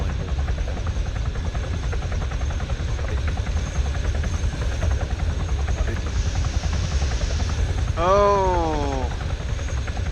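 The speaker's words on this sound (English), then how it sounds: "Helicopters coming back." Helicopter in the Arma 3 military game flying overhead with a steady rotor drone throughout, joined near the end by a brief rising and falling whine.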